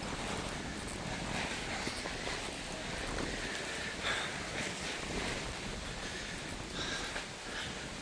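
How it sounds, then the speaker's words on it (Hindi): Steady wind blowing at Ratnadurg Fort on the Konkan coast, a constant broadband rush that buffets the microphone for the whole stretch with no voices. "बढ़िया हवा चल रही है यहाँ पे।"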